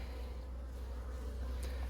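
A box of honeybees lifted open from a two-way mating nuc hive gives a steady, close, droning hum, dense and continuous, with a low rumble underneath throughout.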